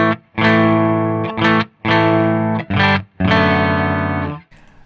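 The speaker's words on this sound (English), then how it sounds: "as soon as I turn the reverb on, there is some kind of distortion going on" Electric guitar played through a Danelectro Spring King spring reverb pedal, reverb switched on, giving a loud, distorted, saturated tone in several sustained chords with brief gaps between them, ending in a faint tail.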